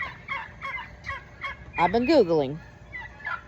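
A backyard flock of homestead turkeys makes a burst of loud, warbling gobbles mid-clip amid softer clucking calls, while a person speaks over them.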